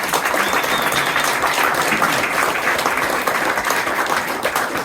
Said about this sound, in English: So huge, huge round of applause for all those contractors.